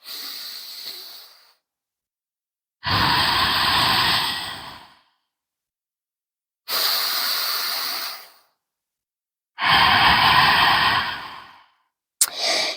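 Slow, deep yoga breaths during a beginner core session, four long airy exhales through a partly closed throat, each several seconds long with quiet pauses between, loud and close.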